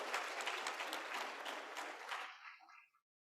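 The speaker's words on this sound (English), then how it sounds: "So an extra applause." A graduation crowd applauds a 4.0 graduate at a Kente robing ceremony, a dense, steady wash of clapping that ends abruptly into silence.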